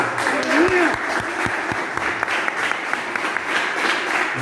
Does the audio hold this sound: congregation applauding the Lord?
yes